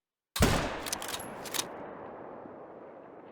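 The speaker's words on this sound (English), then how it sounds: "I get a good broadside shot." A single hunting rifle shot fired broadside in the hunting game Call of the Wild cracks loud and close, then rolls away in a long fading echo across open terrain.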